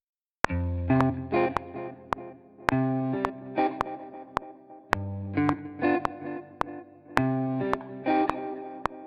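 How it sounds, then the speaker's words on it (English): Guitar chords played in short rhythmic bursts, each note echoing back with a bouncing stereo delay, with sharp percussive clicks on the beat. "switch on the stereo delay, which adds a nice bit of movement to the actual guitar part"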